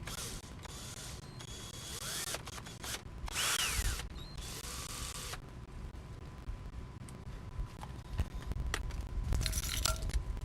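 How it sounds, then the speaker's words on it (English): A power drill whirs in short bursts, its motor whining up and down in pitch, close by with brief gaps between runs. "start recording the drill."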